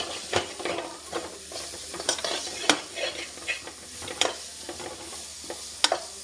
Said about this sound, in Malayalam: ഇനി അതിനെ നല്ലതായിട്ട് മിക്സ് ചെയ്ത് കൊടുക്കണം